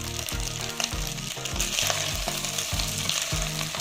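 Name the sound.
rice and sausage sizzling in a pan while stirred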